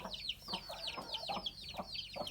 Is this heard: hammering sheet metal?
no